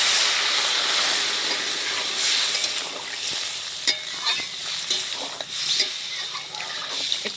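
Water is poured into a pan of spiced fish curry, hissing and sizzling steadily with bright steam noise and scattered stirring clicks, loud and close, with no talk.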